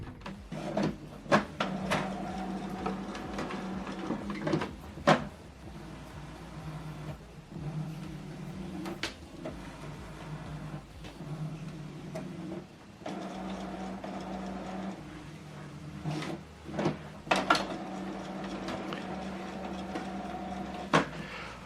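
An Epson WF-2910 inkjet printer whirs and clunks through its startup cycle after setup, with mechanical motor hums broken by intermittent knocks and clicks.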